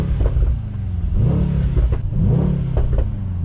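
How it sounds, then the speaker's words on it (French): A Mercedes-AMG GT63 S rated at 640 hp, fitted with a stage 2 Milltek exhaust, is revved in neutral. Its deep exhaust burble rises and falls in several close, loud blips. "Je vous laisse écouter juste le bruit au neutre"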